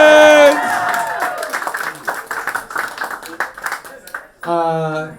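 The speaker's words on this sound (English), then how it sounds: "One last round of applause for your headliner, Emma" Audience at a live comedy show applauding the headliner, with some cheering and harmonic voices at the start and end; clapping is mixed with speech-like sound, moderately loud.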